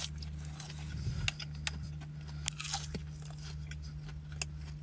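Someone eats a 7-Eleven snack up close, with crisp crunching bites and chewing over a low steady hum, with several sharp crunches scattered throughout.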